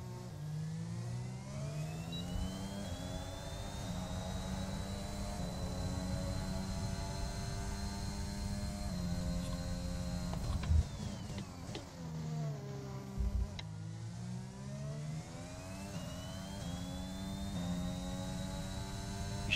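A Formula 1 car engine in the racing game F1 2021 at Japan's Suzuka circuit in an Alpha Tauri, a loud, continuous high-revving whine rising and falling with gear shifts and throttle lifts, sustained throughout with no speech.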